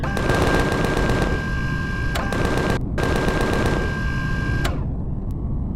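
Rapid, continuous Gatling gun fire in the Empyrion Galactic Survival video game, loud and close, with long sustained bursts broken by brief pauses before cutting off.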